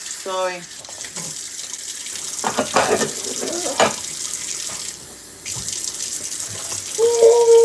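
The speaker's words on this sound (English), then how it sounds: "See how long it takes to wash just these little dishes" Tap water runs into a kitchen sink while small dishes are washed by hand, a steady splashing hiss broken by clinks and rattles, with brief stretches of voice.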